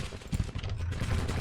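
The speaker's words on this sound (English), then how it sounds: "Our cannons are firing it back." Cannon fire in the Civil War strategy game Grand Tactician, a continuous rumbling barrage of distant booms layered over one another, moderately quiet with no talking.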